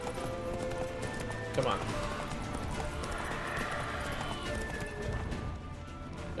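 A horse's hooves clip-clop in a rapid galloping rhythm in the video game Witcher 3, close and steady under a voice speaking briefly.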